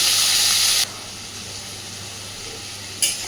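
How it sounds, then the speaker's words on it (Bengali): Onions frying lightly in a pan hiss loudly for under a second, then settle into a quieter steady sizzle, with a brief sharp flare of sizzling near the end. "হালকা করে পেঁয়াজটাকে একটু ভেজে নেব"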